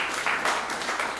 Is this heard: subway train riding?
no